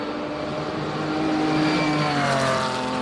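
A classic Porsche race car accelerating at the Simola hill climb, a loud engine rising steadily in pitch through the gears, heard close and continuous.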